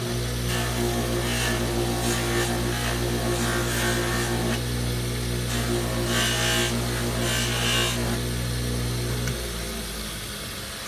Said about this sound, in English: I'm just going to touch this with the Sisal wheel and get all of the roughness off that my belt sander created.